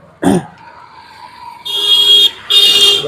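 Street traffic in Chokiding Bazar, a market in Dibrugarh: a sharp burst, then a steady engine hum, with a car or truck horn honking twice at the end, close and fairly loud.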